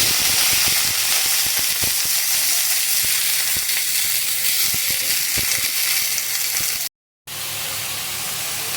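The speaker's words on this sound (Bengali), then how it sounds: "তো দেখো লাউটাকে একটু ভেজে ভাজা ভাজা করে নেবো" Chopped bottle gourd fries in a pan over mustard seed tempering, giving a steady loud sizzle with scattered stirring clicks, briefly cut to silence near the end before the frying resumes.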